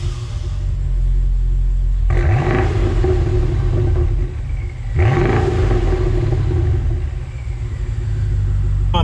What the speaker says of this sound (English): I did put a Megan exhaust on it